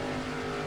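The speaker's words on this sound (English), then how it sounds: "I'm flooring this thing, got my pedal matted as far down as it would go" Steady high-revving race car engine held at full throttle in the stock car game NASCAR Racing 2003 at Daytona, a brief constant droning tone with no speech.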